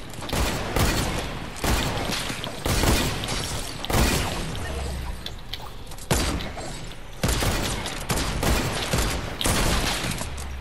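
Sniper rifle shots in a video game shoot-out, loud booming reports repeating about every second or two with short echoing tails, and no talk.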